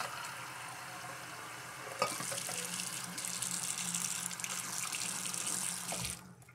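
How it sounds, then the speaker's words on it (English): Water runs from a tap into a shaving soap bowl during a wet shave with a double edge safety razor, a steady close splashing flow that starts with a sharp onset and stops abruptly near the end. "Okay, so I'll just leave it here and add slightly water."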